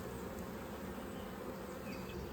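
Honeybees buzz at the entrance of a horizontal hive, a soft, continuous drone with no talking over it.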